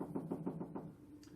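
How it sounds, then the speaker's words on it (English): Five firm knocks on a door in an even rhythm, close and clear, followed by a short pause and then a lighter trailing tap. "Fred knocked again."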